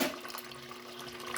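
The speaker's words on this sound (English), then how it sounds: "so here comes the water" Water running into a Haier HLP21N portable washing machine as it begins filling, a steady moderate rush of flow with a faint mechanical hum beneath, close by and heard alone.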